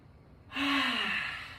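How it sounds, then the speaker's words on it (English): A single long breath is let out slowly during a yoga session, a soft airy exhale that starts suddenly and fades over about a second, close to the mic. "Maybe breathing out through your nose."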